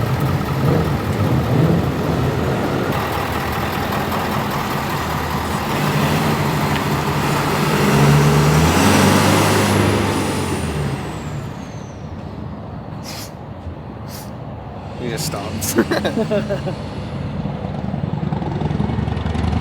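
A truck pulls away after a new-truck handover: loud engine rumble builds and then fades into the distance, followed by a sharp air-brake-like hiss and a few quick clatters, with a brief voice near the end.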